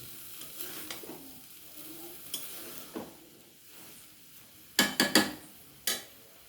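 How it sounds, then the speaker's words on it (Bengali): Chickpea ghugni sautéing in a pan, with a low steady sizzle broken by scraping stirs and a few sharp, close spoon knocks against the pan toward the end; no talking. "একটু কষিয়ে নেব কিছুক্ষণের জন্য।"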